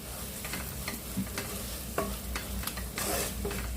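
Egg roast masala stirred and fried in a pan, a steady close sizzle broken by scraping strokes of a spoon against the pan, with no talk over it.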